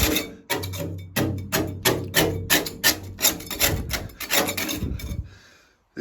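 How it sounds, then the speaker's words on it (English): Scraping rust off a steel boat hull, with a rhythmic series of rough, loud rasping strokes, about a dozen in steady succession, close by and without talk. "scraping,"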